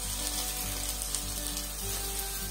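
Tomatoes with onions and curry leaves fry in oil for beef ularthiyathu, producing a continuous loud, close hiss and sizzle with no breaks and no voices.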